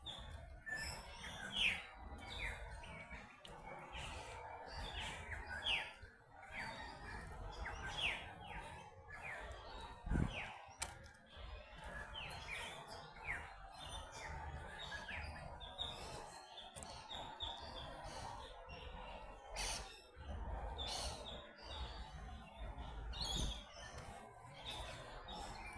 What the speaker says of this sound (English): There's a lot of bird chirpies here.